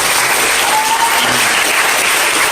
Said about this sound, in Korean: 우리 환영의 박수 한번 하겠습니다.